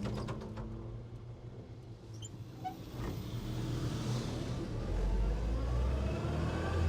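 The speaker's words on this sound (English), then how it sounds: "a whole lot of classic cars cruising down this road" Classic cars pass along a road one after another, engines swelling from far to near and fading, with a rising roar toward the end as a louder vehicle approaches.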